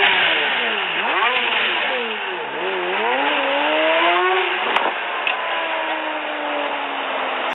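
A bespoke hypercar with a 7.3-litre 750-horsepower Mercedes V12 revs loudly, its pitch swooping up and down through several blips, then it settles into a steady high drone.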